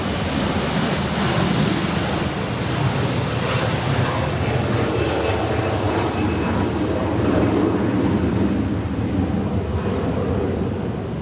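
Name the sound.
Qatar Cargo Boeing 777 departing LAX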